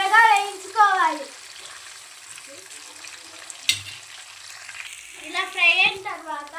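Ingredients for coconut rice (kobbarannam) fry in a pan, a soft, steady sizzle under a voice talking at the start and end, with a brief clatter of a spoon or utensil midway.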